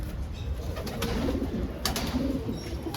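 Fancy pigeons from Banaras, including fantails and owl pigeons, coo softly in a loft. Low, murmuring calls roll under steady background hiss, fairly faint and close, with no voices.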